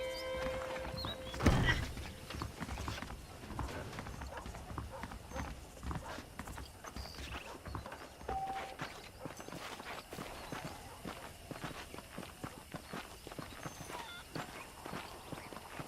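Horse hooves clip-clop on a dirt path in the Red Dead Redemption video game, steady walking steps at moderate volume with background game ambience and a thump near the start.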